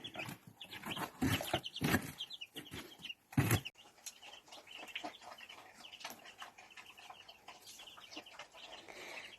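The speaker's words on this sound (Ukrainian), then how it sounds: "Курчатка підростають, тепленько гуляють по вулиці. Мама квочка шукає черв'ячок, напевно." A mother hen and her young chicks forage outdoors, giving close, repeated clucks and soft peeping calls in an irregular, busy rhythm, with brief louder bursts near the start.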